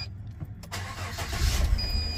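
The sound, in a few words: car engine starting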